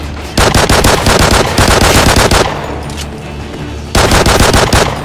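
Automatic gunfire in a first-person shooter gun game match: loud, rapid bursts of shots, a long stream, a brief lull, then another burst near the end.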